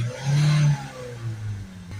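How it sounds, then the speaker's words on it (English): A Peugeot Partner van engine with a worn, ash-loaded particle filter rises in a quick rev spike, then drops back to a steadier idle-like hum, close and fairly loud with no talking. "we'll give it a few spike revs up and down just to get the fluid pushed out"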